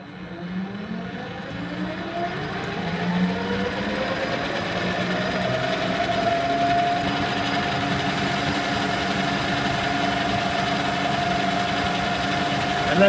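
A metal lathe turning at 710 RPM cuts a rototiller shaft, giving a steady humming drone with a faint rising tonal whine from the cut, close and even throughout.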